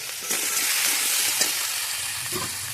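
Cut vegetables hit a hot pan of oil for a thin rohu fish curry, giving a steady close sizzle and fry hiss with a few clattering stirs and no talk.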